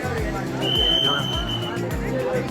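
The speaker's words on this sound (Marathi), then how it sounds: "वरती जेजुरी गडावर भरपूर गर्दी आहे" A busy crowd at Jejuri fort murmurs in a steady babble of overlapping voices, close and continuous, with a few nearer voices standing out.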